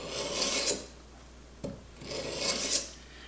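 Two long scraping strokes of a blade drawn across a sharpening stone, each a steady gritty rasp, with a short tap between them; close and fairly quiet.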